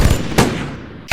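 Gunfire in a mafia film staged with Playmobil figures: two loud, sharp bursts of shots, one early and another at the very end, separated by a quieter stretch.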